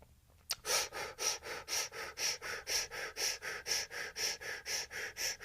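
Breath of fire exercise: rapid, rhythmic forceful exhalations through the nose, about two per second, steady and close, with no talking.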